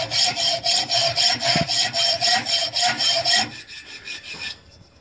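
A hand saw cuts through knife steel in rhythmic strokes, a harsh screeching rasp about twice a second for several seconds that then eases into quieter, scraping passes.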